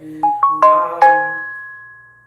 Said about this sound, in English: sorry, I just got a notification.